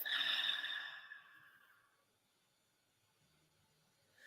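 A deep exhale pushed out through the mouth during a square-breathing stress-relief exercise, a close breathy sigh-like rush that fades over about two seconds, then quiet.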